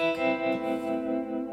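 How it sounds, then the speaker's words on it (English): Boss Katana guitar amp with its tremolo effect on a sustained electric guitar chord, the volume pulsing up and down in quick, even dips throughout, loud and close with no talking. "that's a tremolo"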